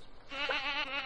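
A goat bleats in the Stardew Valley farming game, a single wavering, buzzy call about a second long that rises out of quiet background and holds fairly loud to the end.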